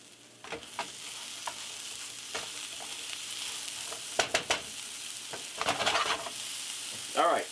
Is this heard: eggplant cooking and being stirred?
yes